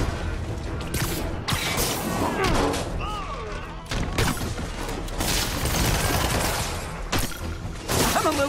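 Rapid bursts of gunfire from the Spider-Man PS4 video game crackle repeatedly across a busy, dense game soundtrack, joined by mechanical clanks and whooshes, with voices heard in places.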